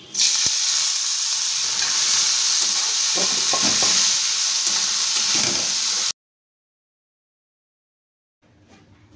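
Small shrimp seasoned with turmeric and salt fry in a pan with a loud, steady sizzle and occasional stirring scrapes for about six seconds, then cut to near silence before faint kitchen sounds return.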